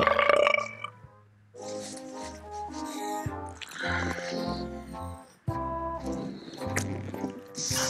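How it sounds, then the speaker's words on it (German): Cartoonish burps from a burping contest in the video game Return to Monkey Island, several loud belches in a row over game music with gulping, liquid-like sounds between them. "Hey, wie wär's mit einem Rülps-Wettbewerb?"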